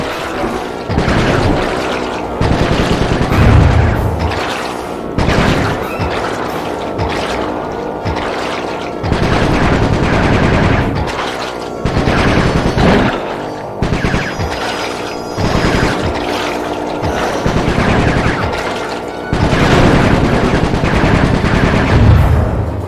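Rapid gunfire bursts from shooting in the video game Sly 3, loud repeated volleys with short gaps, mixed with game music and effects throughout.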